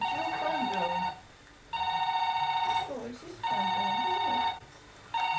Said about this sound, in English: Is your phone going?